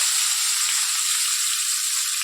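Hot cooking oil for potato curry sizzles in a steady, bright hiss after a test piece is dropped in, loud and close with no pauses.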